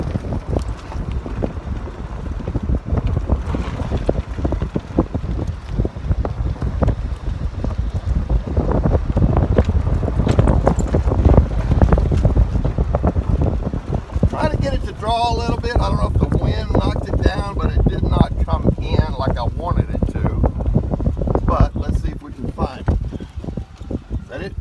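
Wind gusting steadily across an outdoor microphone, a continuous low roar and rumble of buffeting noise throughout, with a voice talking faintly over it in the latter part.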